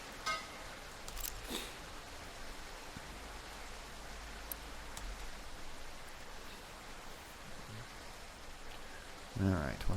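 Rain falls in the city-building video game Captain of Industry as a steady, even hiss with scattered tiny clicks. A louder burst of other game sound rises at the very end.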